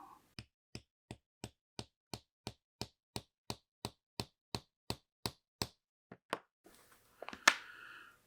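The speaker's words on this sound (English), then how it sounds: "give her a couple love taps here. Second favorite hammer." A hammer taps a metal snap setter on a leather shoulder holster about fifteen times in a steady, even rhythm, sharp and close, followed by a short rustle and a final louder knock.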